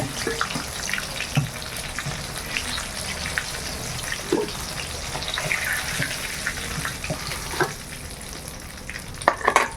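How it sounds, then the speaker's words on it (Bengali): Chicken pieces sizzle and crackle steadily as they fry in a pan, with a few scraping and stirring noises and no voices. "এক পিঠ লাল লাল ভাজা হয়ে গেছে, আর এক পিঠ ভাজা হলে তুলে নেব"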